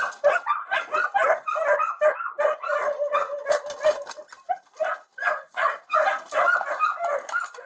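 A big dog barks repeatedly in close, uneven bursts, mixing sharp yips with whining whimpers, loud and continuous throughout.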